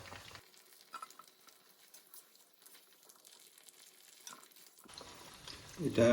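Marinated chicken fries in a pan with a steady, crackling sizzle and occasional stirring scrapes. The frying swells noticeably louder in the final second.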